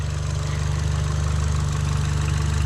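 A modified car engine idles steadily up close, a loud, even low rumble with a faint rhythmic knock, continuous and without voices.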